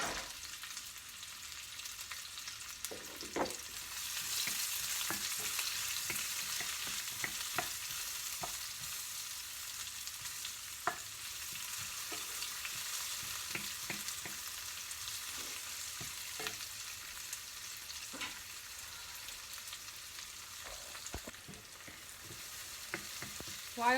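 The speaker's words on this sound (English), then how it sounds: "While the onions are cooking and sauteing" Onions sauté in a pan for garbanzo bean soup, a steady hissing sizzle that stays fairly quiet, broken by scattered ticks and scrapes of stirring, with no one speaking.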